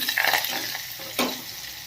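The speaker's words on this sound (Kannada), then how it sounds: "ಜಜ್ಜಿದ ಬೆಳ್ಳುಳ್ಳಿ ಹಾಗೆ ಕರಿಬೇವು ಹಾಕಿ ಮಿಕ್ಸ್ ಮಾಡಿಕೊಂಡು" Crushed garlic and curry leaves sizzling in hot oil while a spoon stirs and scrapes the pan, a brief clatter near the middle, close and moderate with no voices.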